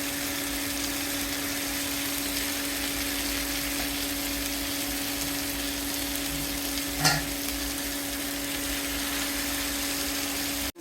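Small hilsa fish frying with onions in hot oil give a steady, loud sizzle that holds evenly throughout, broken by one brief clatter near the end.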